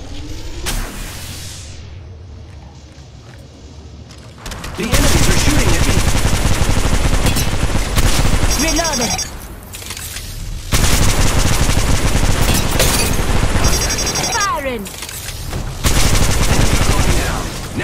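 Loud, close automatic gunfire in Apex Legends Mobile comes in long rapid bursts separated by short pauses, with shell and impact clatter and a character's voice heard between volleys.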